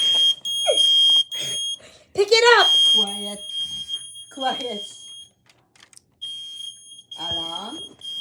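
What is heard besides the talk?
smoke detector alarm beeping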